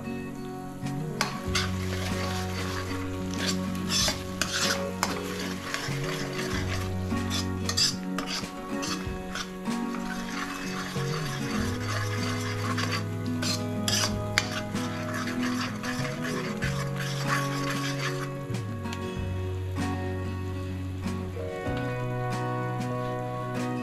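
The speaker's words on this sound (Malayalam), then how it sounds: "ഇതിട്ടിട്ട് നമ്മൾ നല്ലവണ്ണം ഇതിനെ ഒന്ന് ഇളക്കുക" A spoon stirs cumin and spice powder in a hot pan for a dum aloo dish, with a steady sizzle, frequent metallic scrapes and clinks against the pan, and a low hum underneath throughout.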